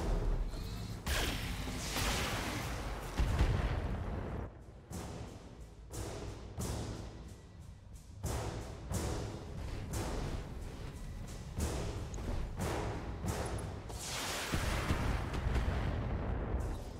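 Turret artillery in the BattleTech game pounds out heavy booming shots, a steady run of loud blasts and thuds that keeps going the whole time with no talking over it.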